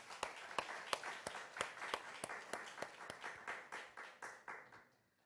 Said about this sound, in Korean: 오늘 한번 격려의 박수 좀 한번 보내주십시오.